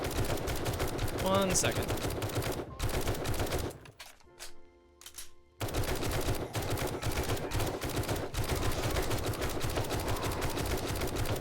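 Rapid automatic gunfire from a weapon in the zombie survival game 7 Days to Die, loud and close, in sustained bursts that break off briefly midway before resuming, with a brief spoken word.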